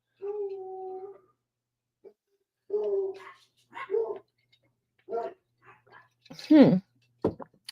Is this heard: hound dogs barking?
yes